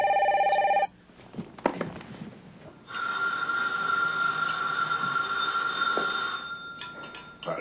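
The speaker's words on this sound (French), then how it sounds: "Le téléphone sonne." A telephone rings with a steady electronic trill, then breaks off, followed by a sustained tonal ringing hum with clattering noises; no voices.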